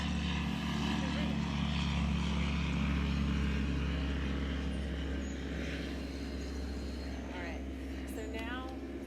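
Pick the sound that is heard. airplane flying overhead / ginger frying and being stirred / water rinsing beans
airplane flying overhead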